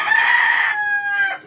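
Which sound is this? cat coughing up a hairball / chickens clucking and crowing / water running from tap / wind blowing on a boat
chickens clucking and crowing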